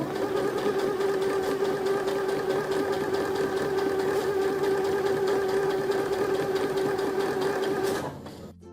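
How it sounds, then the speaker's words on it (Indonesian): A sewing machine runs steadily while stitching fabric, producing a continuous whirring, rapidly pulsing hum at an even speed for several seconds before winding down and stopping near the end. "Setelah dikunci, teman-teman bisa mulai menjahit."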